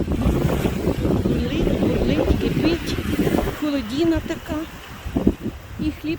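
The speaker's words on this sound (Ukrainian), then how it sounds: "таке от море, бурляще" Wind roars and a rough sea churns continuously, loud and close, while someone talks over the noise.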